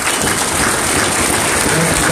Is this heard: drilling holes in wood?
no